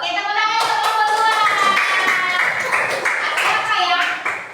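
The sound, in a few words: classroom children clapping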